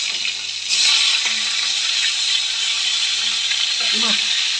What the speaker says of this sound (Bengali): এদিকে মাছটা বসিয়ে দিলাম ভাজার জন্য খরবস মাছ